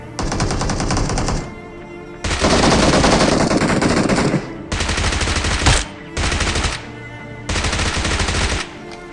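Automatic gunfire rattles from a battle royale video game in four or five long, loud sustained bursts separated by brief pauses, as enemies are finished off.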